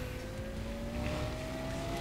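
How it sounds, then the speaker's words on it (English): A fast sports car's engine in Need For Speed World drones steadily while accelerating, its pitch climbing slowly and smoothly, loud and continuous without voices. "Absolutely love this car because it's like one of the fastest cars in the game."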